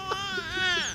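A newborn baby cries in a high, wavering wail that rises and falls over about a second, close and fairly loud with no other sounds.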